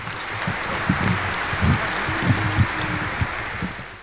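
An audience claps steadily at a charity Christmas and New Year concert in Bytom, a sustained close wash of applause with a few louder individual claps standing out and no talk.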